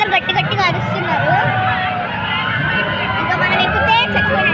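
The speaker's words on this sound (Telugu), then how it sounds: "ఫ్రెండ్స్ అందరు గట్టి గట్టిగా అరుస్తున్నారు" Loud, dense crowd hubbub at a summer utsav mela, with friends and children yelling and chattering together in a steady, continuous din that never drops out.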